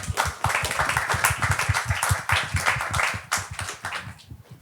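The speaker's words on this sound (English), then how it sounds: "So I think we should applaud him." An audience at a psychedelics panel claps together, giving a quick, fairly close patter of hand claps that holds steady for several seconds before thinning out.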